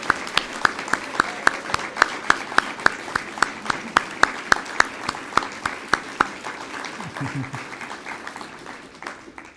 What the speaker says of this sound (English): Let's give another round of applause for all of our winning authors.